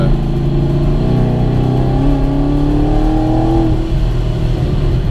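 A 2016-2024 Chevrolet Camaro SS with a forged LT1 V8 engine and fueling upgrades hums steadily and rises in pitch as it accelerates. The sound stays loud and close throughout, and no one speaks.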